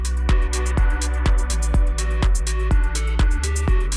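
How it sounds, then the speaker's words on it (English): Layered, distorted snare hits built from an Among Us sound sample punch through a dense electronic beat with a heavy low-end pulse. The hits are loud, at an even rhythm, with no talking. "And then I had this really cool snare sample from the original sound."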